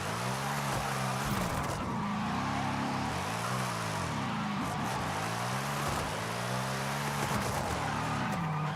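Car tires spinning and squealing as a car drifts in the Forza Horizon 5 video game, with a loud wavering engine whine rising and falling over a continuous screech.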